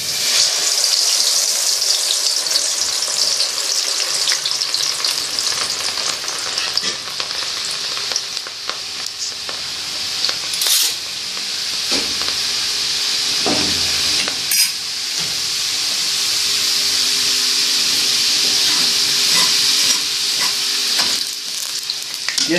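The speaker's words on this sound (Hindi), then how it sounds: "ये सिर्फ और सिर्फ आधे मिनट और 1 मिनट के अंदर अंदर ये फ्राई हो जाएगी।" Moong dal frying in hot ghee for crispy nimko, a loud, dense, continuous sizzle and hiss with occasional stirring clatter and splashes, close up and without speech.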